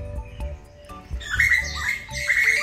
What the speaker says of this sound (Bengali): ওই দেখ কত পাখি দেখ ওখানে দেখতে পাচ্ছিস